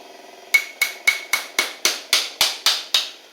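Nine sharp metallic taps strike a carburetor part on a Troy-Bilt Bronco, evenly spaced and close, each with a short ringing decay, after a brief quiet start.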